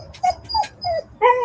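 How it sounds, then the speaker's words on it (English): Dog Chewy yipping and whimpering outdoors, four short high-pitched cries in quick succession, close and fairly loud. "What are you barking at?"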